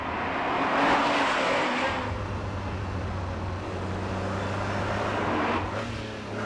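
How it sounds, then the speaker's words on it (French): A Ferrari Testarossa V12 engine pulling hard under acceleration, a loud steady roar heard from inside the car with a sustained low drone, its pitch holding high in the rev range. "On sent le V12 qui pousse derrière, c'est linéaire et ça part dans les tours."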